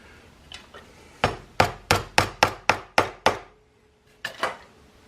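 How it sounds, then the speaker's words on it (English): Sharp metallic taps from a small hammer driving pins into a knife handle, a quick run of about eight evenly spaced strikes, then a pause and two more, close and fairly loud. "just tapping them guys right down in there"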